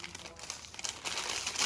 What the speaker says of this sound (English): So now we're going to gently remove the wax paper,